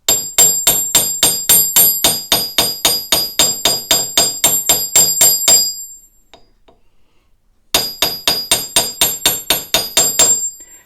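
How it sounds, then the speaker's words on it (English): A hammer strikes wire on an anvil in rapid, even blows, ringing sharply, pauses for about two seconds, then resumes the same steady metallic tapping. "place it on your anvil and hold it so that it doesn't bounce around. And use your hammer to flatten it out."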